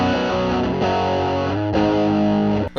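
An electric guitar played through a Dumble-style overdrive pedal rings out in loud, sustained chords with a gritty, driven tone, changing chord twice before cutting off abruptly.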